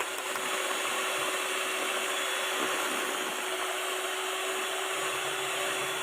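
Steady, loud, unbroken whirring drone of an electric mixer running at its highest speed while beating cake batter for a bolu dam, a Bengkalis, Riau layered cake, holding constant throughout with no voices.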